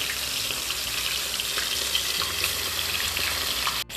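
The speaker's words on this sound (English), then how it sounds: "I'm going to fry this" Lady fish frying in a pan with a steady, close, broadband sizzle and crackle that holds loudly throughout, ending in a brief dip near the end.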